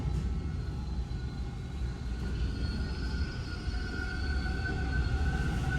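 A Toronto subway train in motion, heard from inside a lightly occupied car: a steady low rumble with thin whining tones rising and holding, continuous and fairly loud with no talk.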